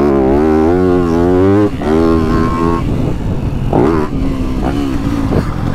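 A 2024 Yamaha YZ250F motocross bike revs close by, its engine note climbing and falling with throttle blips and loud, grunty bursts, with no voices.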